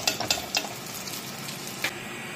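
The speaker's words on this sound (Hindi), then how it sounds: "देखिए दोस्तों, ओल दोनों तरफ से गोल्डन ब्राउन फ्राई हो गया है" Slices of elephant foot yam frying in oil, a dense steady sizzle with several quick utensil scrapes and taps early on and another near the end.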